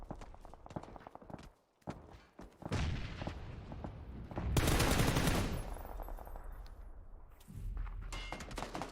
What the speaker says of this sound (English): Across the road, the shots do connect, and multiple different teams will be benefiting